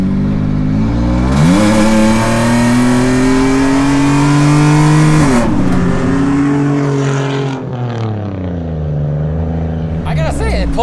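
Supercharged Toyota RAV4 with an old five-speed gearbox accelerating hard through the gears: loud, close engine revving climbs in pitch, drops at a shift, then climbs again, with someone speaking over it.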